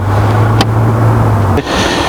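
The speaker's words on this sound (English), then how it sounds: "Even though this car is 15 years old, it has the soft closing system." A 15-year-old Mercedes S55 AMG's soft-close door pulls shut, a brief soft thud rising over a steady engine idle hum, followed by a faint latch click.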